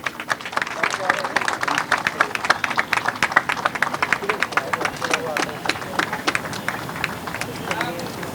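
Audience applause at an inauguration ceremony, dense rapid clapping from many hands, loud and sustained throughout with a few voices mixed in.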